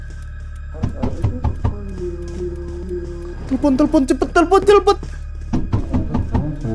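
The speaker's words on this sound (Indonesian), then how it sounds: "Ada suara gedor-gedor, guys." Pounding knocks in a Roblox video game come in clustered bursts of dull thuds, repeated several times, heard under and between excited talking and a voice that rises in pitch.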